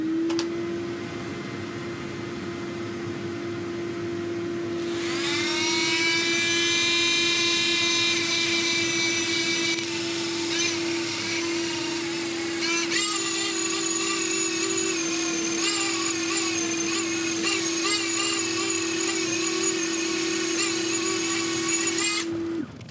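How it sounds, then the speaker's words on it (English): A sanding wheel whirs steadily with a high, whining tone that rises and shifts as it presses against a spinning turned wooden bowl on a lathe, continuous and close. "Okay, this is the sanding wheel I'm gonna use."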